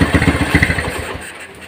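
A Honda GL Pro motorcycle engine, which sputters and tends to stall when hot, revs in a quick throbbing burst, loud and close, then drops away toward idle near the end.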